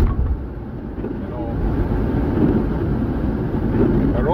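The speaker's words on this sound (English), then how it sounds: "Now we're driving in at 80 kilometers per hour right here." A car cruises at 80 km/h along a snowy Alberta highway in a spring blizzard, producing a steady low road and wind rumble that grows slightly louder partway through, with faint voices underneath.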